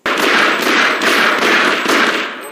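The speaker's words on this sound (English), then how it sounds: "If you accidentally shoot a guard, then he will become hostile and shoot you back." Rapid automatic gunfire in the video game Half-Life 1 plays loud and close in a continuous burst of sharp repeated shots.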